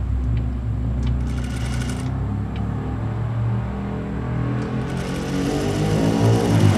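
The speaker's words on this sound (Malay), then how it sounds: "Mesinnya bunyi motor tu" A sewing machine motor runs steadily and loud while stitching a kurta collar, a continuous mechanical whir with faint rhythmic clicking of the needle, heard alone throughout.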